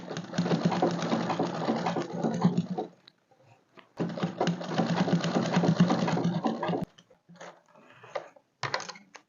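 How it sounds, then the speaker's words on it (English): A sewing machine stitching a frock dress, running in two long steady whirring bursts separated by a pause, then short stop-start runs near the end. "and then you sew on it"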